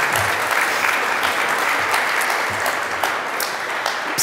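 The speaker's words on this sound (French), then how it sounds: "je vous laisse applaudir" Sustained applause from a conference audience at a colloquium on academic freedom, a dense steady wash of many hands clapping that fills the whole stretch at even loudness, with no voices on top.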